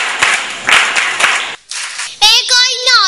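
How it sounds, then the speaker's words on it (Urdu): Students in the audience at a school speech competition clap for a participant, a brisk burst of many hands that stops abruptly. After a short silence a single voice begins speaking or reciting up close. "سعدیہ کے لیے بہت ساری تالیاں۔"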